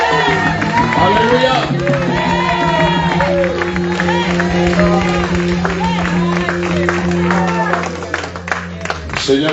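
A church congregation cheers and acclaims the Lord, a dense crowd of voices with clapping and shouts building together over a steady sustained musical drone, one voice calling out above the crowd.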